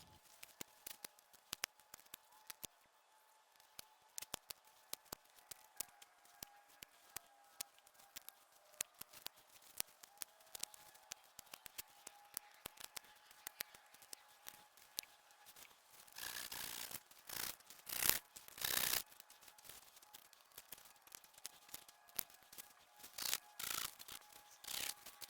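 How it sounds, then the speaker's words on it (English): Pruning an elderberry shrub with a saw, loppers and hand pruners: a long run of sharp snips, clicks and rustling branches, with a denser stretch of louder sawing and rubbing strokes near the end. "I'm gonna get in here with my saw, my loppers, and my pruners and take it down"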